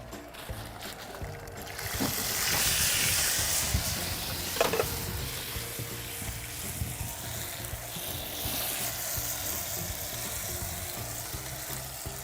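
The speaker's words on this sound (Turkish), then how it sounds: "rendelenmiş domates ilave edeceğim" Grated tomato poured into tomato paste frying in a pan, setting off a loud close sizzle that swells and then settles into steady bubbling frying with stirring.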